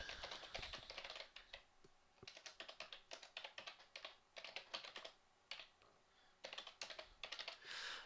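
Steady typing on a computer keyboard, close and fairly quiet, with quick bursts of key clicks separated by brief pauses and no talking.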